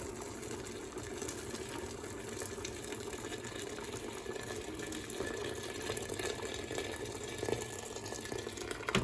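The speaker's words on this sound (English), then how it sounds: "We're just going to cover it with hot water." Hot water pours steadily over browned lamb in a stew pot, a continuous close rushing and filling sound with no talk.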